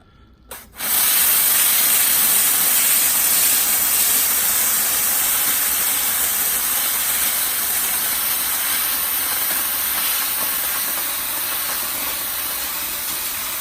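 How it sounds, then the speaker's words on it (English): A Comforday high pressure steam cleaner bursts on after a brief quiet start and sprays steam onto mats, giving a loud, steady broadband hiss that holds without a break. "I'm just going to use the power steam."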